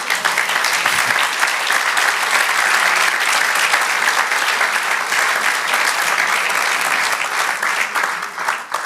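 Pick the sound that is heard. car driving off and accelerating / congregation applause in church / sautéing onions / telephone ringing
congregation applause in church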